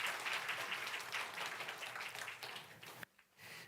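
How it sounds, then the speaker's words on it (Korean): A short burst of dense church congregation applause at a baptism service that fades and stops abruptly, followed by a faint shuffle. "힘차게 박수 한번 쳐주십시오."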